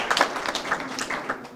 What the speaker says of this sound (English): Give that young man a round of applause again